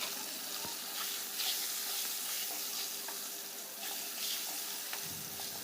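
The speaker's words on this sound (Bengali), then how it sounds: "একে একে আমি আলুগুলো কড়াইয়ের তেলের মধ্যে দিয়ে দিলাম" Cut potatoes fry in oil in a wok over a village kitchen fire, giving a continuous close sizzle and crackle with occasional stirring scrapes and brief spikes of spattering.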